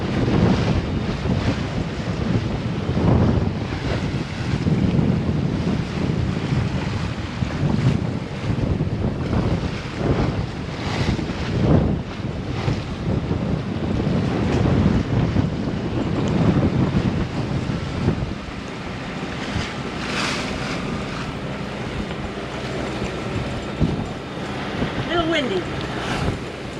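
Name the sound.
strong wind and waves at sea on a sailboat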